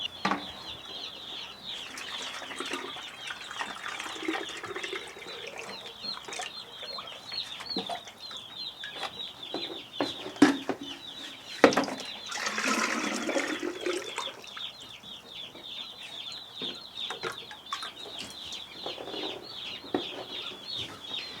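A brood of Cornish Cross chicks peeps constantly nearby, a dense chorus of high chirps with occasional rustling, water sounds and clatter underneath.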